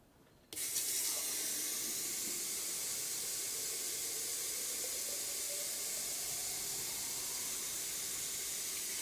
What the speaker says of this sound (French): on va voir en combien de temps il faut pour remplir la bouteille